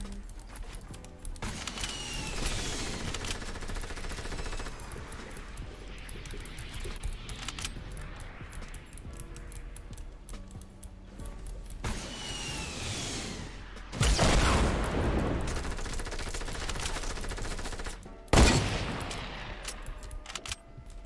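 Rapid automatic gunfire from a weapon in the Fortnite video game, bursts of shots over a busy mix of game effects, with two sharp loud blasts near the end.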